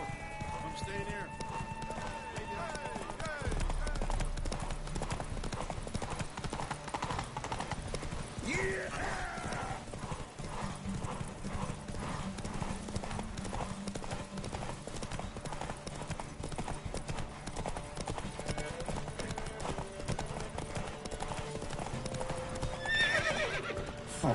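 A horse galloping in The Witcher: Wild Hunt video game, steady rapid hoofbeats with a whinny partway through, under game music and a talking voice.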